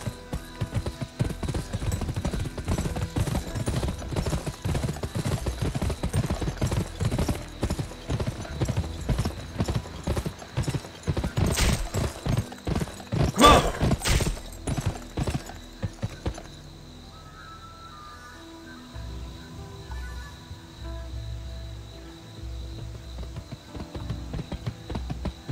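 Rapid, steady hoofbeats drum throughout a horse race in the PS2 western video game Gun, with an occasional whinny, until the galloping cuts off and quieter game sounds take over.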